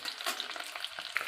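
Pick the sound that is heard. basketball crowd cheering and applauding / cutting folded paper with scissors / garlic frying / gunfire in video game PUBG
garlic frying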